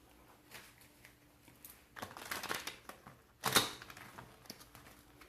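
Tarot cards are shuffled by hand in a few quick, papery bursts that build to one sharp riffle near the end, close and fairly quiet, with no talking.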